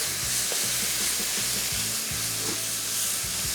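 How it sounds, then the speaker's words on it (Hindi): Red chili, turmeric, salt, dried coriander and cumin frying in hot oil, a constant loud sizzle with a rhythmic low thumping underneath, no voices. "ये सारी चीज़ें शामिल करने के बाद इन सब को हमने थोड़ा सा करना है फ्राई"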